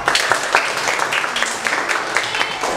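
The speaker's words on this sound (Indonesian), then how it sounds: "Nah, tepuk tangannya mana semua ya?" A school class claps hands after a role-play lesson on rotation and revolution, a steady patter of many hands lasting throughout, fairly close and loud, with no talk over it.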